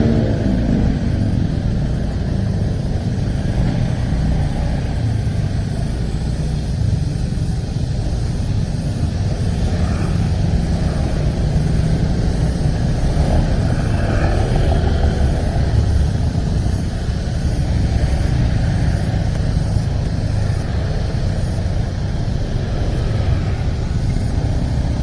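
A road in a traffic jam gives off a continuous engine rumble as cars idle and creep forward. The low drone stays loud and steady, with faint passing swells and no speech.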